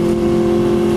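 An Aprilia Tuono V4R motorcycle's V4 engine holds a loud, steady high-rev drone at around 8,000 to 9,000 rpm, close by and alone, with no distinct quick-shift break heard.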